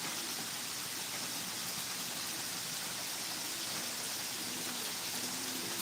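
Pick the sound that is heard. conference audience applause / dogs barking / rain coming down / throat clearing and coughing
rain coming down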